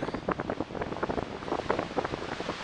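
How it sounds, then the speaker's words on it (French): Strong storm wind buffets the microphone in rapid, uneven gusts during freezing-weather fishing, a loud rumbling roar with no voices. "Comme vous pouvez l'entendre, bah, c'est la tempête"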